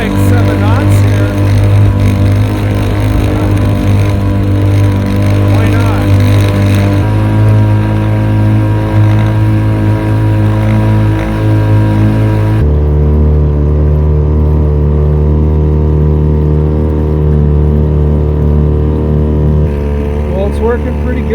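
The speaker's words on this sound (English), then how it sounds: "the motor is far enough down in the water, or the exhaust tube runs up and down, that it's muffling the sound of the motor" A small 1.2 hp Gamefisher outboard motor runs on a kayak, its exhaust muffled under the water, droning loud and steady at cruising speed the whole time, with a slight shift in pitch partway through.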